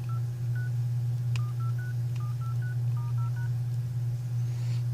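iPhone 5c dial pad tones sound in a quick irregular series of short beeps, each keypress a brief pitched tone, over a steady low electrical hum during a screen test.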